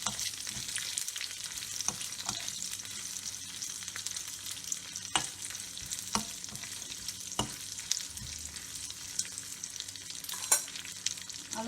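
Curry leaves frying in a pan for a tomato chutney give a steady, close sizzle and crackle, with occasional sharp pops and stirring clicks throughout and no voices.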